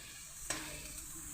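Spice paste with ginger fries and is stirred in a pan with taro greens. A low, steady sizzle runs throughout, broken by one sharp scrape of stirring.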